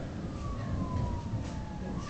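An ambulance siren wails faintly in the distance during a thunderstorm, its pitch sliding steadily downward as it moves away, over a low background rumble.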